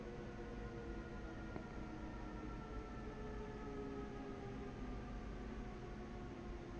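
A subway train in the Train Sim World Rapid Transit game runs steadily, a constant broadband rumble with a faint whining motor tone sustained throughout, fairly quiet and with no voices.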